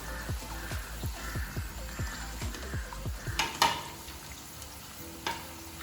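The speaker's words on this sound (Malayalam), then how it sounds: "ലോ ടു മീഡിയം വരെ വെച്ചിട്ട് ഒന്ന് ഫ്രൈ ചെയ്തെടുക്കണം." Kumbalappam layer frying in a pan over low to medium heat, a soft continuous sizzle with a series of regular scraping stirs of a utensil against the pan, then a few clinks.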